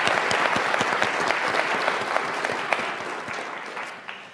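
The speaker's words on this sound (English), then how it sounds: "Let's give a big round of applause for our finalists today." A large audience claps for the finalists of a student business pitch competition: dense, sustained applause with crisp individual claps that holds steady and then slowly thins out toward the end.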